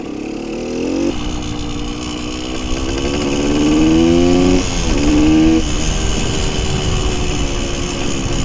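A 1974 Honda MT250 motorcycle idles steadily up close, then its revs climb and pull away as it rides off, with no talking.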